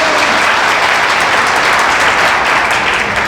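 An audience at a talk show on India's problems bursts into loud, dense applause, many hands clapping continuously and close throughout, with no speech over it.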